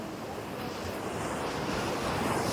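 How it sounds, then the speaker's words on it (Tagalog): Sea surf breaking steadily along the shore near San Juan Beach, a continuous broadband wash with some wind rumble against the microphone, no clear voices. "Yan ang dagat."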